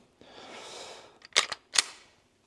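A Glock 45 Hunter pistol in a quiet room: a soft rustle as the trigger is pressed, then two sharp close clicks as it breaks and resets.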